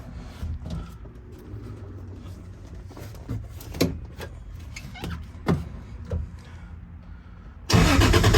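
A Toyota 2JZ engine being cranked and started: a run of clunks and rattling cranking pulses, then a sudden loud roar as it fires up at the end.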